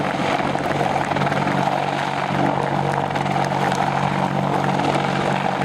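Attack helicopters of a British military display team fly past at an air show, a loud, steady rotor and engine roar that holds unbroken for several seconds with no talk over it.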